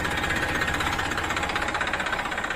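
A tractor engine runs steadily and loudly with a dense knocking rumble, close by, as it works a disc harrow with bearings rather than bushes in its discs; no one talks.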